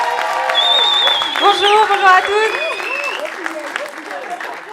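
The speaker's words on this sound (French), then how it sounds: "On l'applaudit bien fort." An audience at a comedy show applauds a performer. Crowd clapping and cheering stay steady throughout while a man greets the room loudly over the noise.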